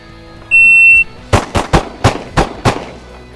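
A shot timer's high electronic beep is followed by a quick string of about six sharp, loud pistol shots in a timed shooting drill, fired close together in an uneven rhythm.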